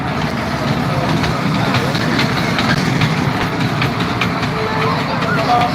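A fairground toy train ride runs at the Basant Panchami fair in Chheharta, Amritsar, giving a loud, continuous rumble and clatter close by, with crowd noise and voices throughout.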